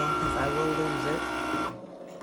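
A Cricut Maker cutting machine loads material and starts up with a steady mechanical whirr and shifting motor tones, then stops abruptly near the end, with a person talking over it.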